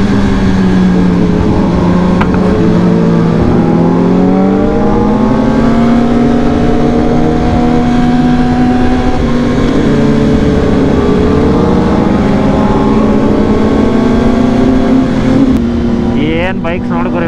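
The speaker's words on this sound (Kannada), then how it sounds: "ತುಂಬ ಅಂದರೆ ತುಂಬ ಬೈಕ್ಸ್ ಇದೆ ಇವತ್ತು." Many motorbikes idle and rev at a crowded morning group ride meetup, with a loud, continuous engine drone whose pitch rises and falls as throttles are blipped. Voices sound faintly under the engines.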